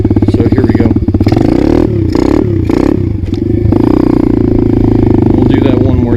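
An Apollo DBX-18 pit bike engine revs hard and close during a wheelie, with repeated sharp throttle blips and dips and some clattering, while a person talks over it.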